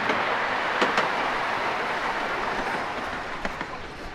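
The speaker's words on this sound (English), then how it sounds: "The one thing I love the most, train rides at theme parks. This thing's booking it. It's going pretty fast." A theme park train ride at Knoebels runs fast on its rails, a loud continuous rumble and wind roar with occasional sharp clicks and clanks of the wheels, heard up close from aboard.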